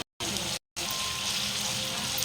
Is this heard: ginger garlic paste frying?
yes